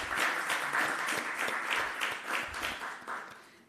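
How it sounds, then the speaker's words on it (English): An audience at a Jamaican Ministry of Health national health research conference applauds the presenters. The steady, full clapping lasts nearly four seconds and fades slightly at the close. "So let's give them a round of applause again."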